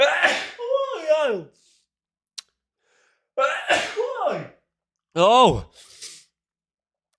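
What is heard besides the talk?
sneeze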